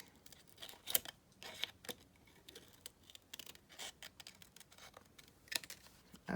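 Scissors roughly cut out paper tags for a junk journal, making quiet, irregular snips and crisp scrapes with short pauses between them, close by and faint.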